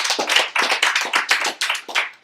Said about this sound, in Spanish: Alábelo, denle un aplauso a Dios por eso.